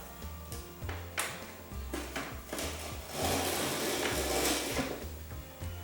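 A quad trimmer cutting edge banding tape, a close series of clicking, scraping cuts over a low mechanical hum, growing into a denser rough scrape partway through.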